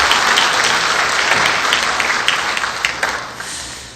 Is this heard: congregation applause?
yes